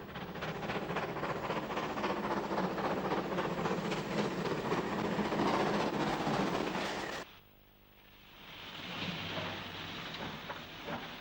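A large British pannier tank steam locomotive of a pre-nationalisation design rolls past in a loud, steady rumble and clatter, then an abrupt cut brings a quieter, more distant run of rolling train noise.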